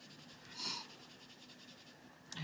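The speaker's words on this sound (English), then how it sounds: "Excuse me sniffing." One quiet sniff rises briefly over a faint background hiss, with near silence after it.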